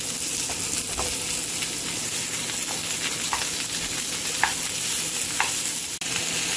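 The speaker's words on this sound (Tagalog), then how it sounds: "isunod na natin ang ating na-boiled na pork ribs." Boiled pork ribs fry steadily in a pan, a continuous close sizzle with faint crackles and occasional soft stirring clicks, no voices over it.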